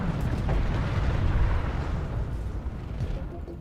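A tank shell hits a Burster MAX in the PlanetSide 2 video game, a heavy, rumbling blast whose loud, broad roar sustains and slowly fades, with no one speaking.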